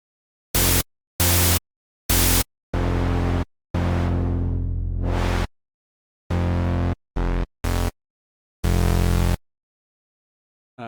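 Bright white noise from a synthesizer noise oscillator, played in repeated bursts of varying length with silent gaps between; some bursts are filtered and swept, changing tone, all loud and close with no voices.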